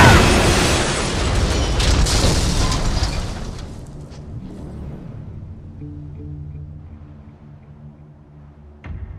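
Van crashing and blowing up in a multiplayer video game, a loud sustained explosion roar that fades over several seconds into low rumbling, ending with a short sharp thump.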